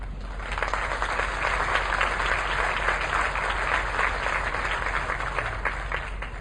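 An audience at an 8th grade graduation ceremony applauds an award winner, a dense, steady round of many hands clapping that holds at full strength for several seconds without talk.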